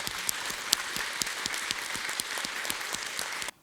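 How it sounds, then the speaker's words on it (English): Audience applause for panel members at a women's innovation conference plenary session, dense sustained clapping from a large room that carries on evenly for over three seconds, then cuts off abruptly. "I'd like you all to join me with a round of applause for my fantastic panel members."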